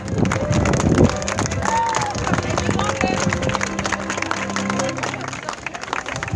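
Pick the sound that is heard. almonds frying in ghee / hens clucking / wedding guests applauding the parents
wedding guests applauding the parents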